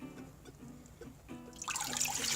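Fresh tap water pours into a clean, disinfected pet bowl, starting as a faint trickle and swelling into a loud, bright splashing stream near the end.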